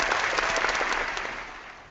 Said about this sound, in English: you get somebody do the applause